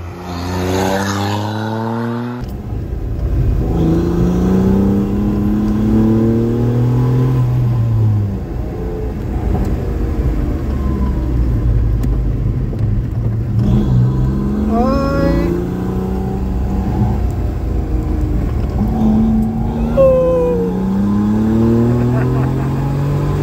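A car drives fast around a racing track, its engine revving up and down through gear changes and corners, loud and close, with people talking over it throughout.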